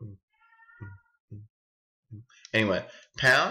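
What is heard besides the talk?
cat meowing in the background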